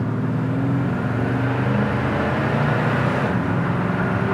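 Steady low rumble of a 1968 Ford Mustang Fastback engine, heard from inside the car as a continuous, even drone with no talk over it.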